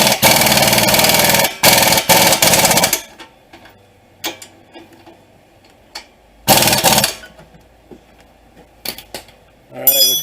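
An impact wrench with 19 mm and 22 mm sockets tightens strut mount bolts on a 2004 Honda Element, giving two loud, close rattling bursts, a long one at the start and a shorter one later, with quiet clinks between.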